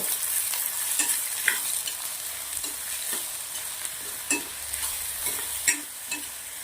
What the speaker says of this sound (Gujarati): ડુંગળી મરચાં સરસ મજાનું સાતળી લેવાનું છે।